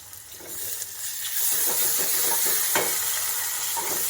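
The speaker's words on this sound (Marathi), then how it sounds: "इथे कांदा घालते गॅस थोडा कमी ठेवते कांदा हलकासा फ्राय झाला की टॅमॅटो घालून घेते" Onion frying in a pan over low gas, a steady close hiss and sizzle that swells after the first second, with light scraping of a stirring spoon and no voices.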